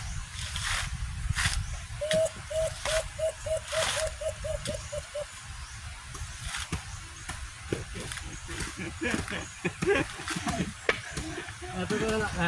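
A repeated high whistled call in a quick even series, then scattered whistles amid clatter and voices; sounds like a person imitating a bird.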